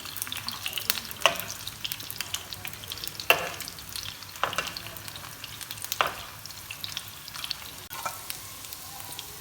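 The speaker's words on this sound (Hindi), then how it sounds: "तो जैसे जैसे फ्राई होते जाएंगे थोड़ी थोड़ी देर बाद हम इनकी साइड भी चेंज करते जाएंगे" Potato gola kababs frying in oil over medium-low heat, a continuous soft sizzle broken by periodic louder spatters and crackles as they are turned, no talking.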